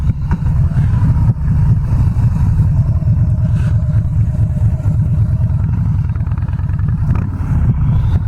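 A Harley-Davidson Softail Slim with a 103ci engine idles and rumbles nearby, a loud, deep, steady throb of lumpy low pulses that holds evenly throughout.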